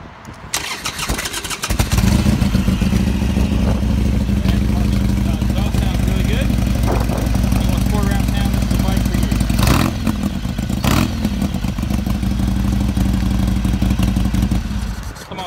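Bobber motorcycle with about 5,659 miles on it cranks over and fires up, then settles into a loud, steady, rumbling idle that runs close and continuous to the end, with a couple of brief clattering bursts partway through.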